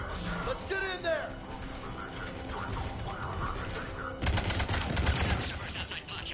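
Gunfire erupts at a besieged checkpoint in Mass Effect 3, a dense burst of rapid shots breaking out in the latter part beneath game effects and voices, loud and close.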